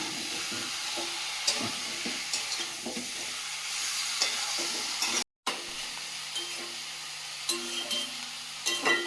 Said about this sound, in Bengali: ভেজে রাখা আলু আর ডাটাটাও দিয়ে দেবো এ পর্যায়ে দিয়ে সুন্দর করে কষিয়ে নাও